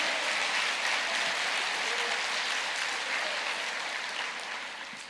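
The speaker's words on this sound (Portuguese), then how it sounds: "Aplauda mais" A church congregation applauds during a sermon, a broad, even roar of many hands clapping that holds steady and then gradually tapers off near the end.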